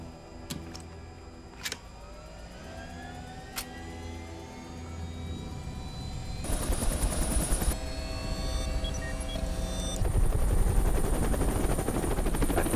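V-22 Osprey tiltrotor aircraft in a Splinter Cell video game, a rising rotor and engine drone that grows louder and denser, with a few sharp clicks or impacts early on and no talk.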